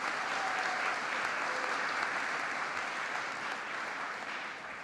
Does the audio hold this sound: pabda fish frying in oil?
no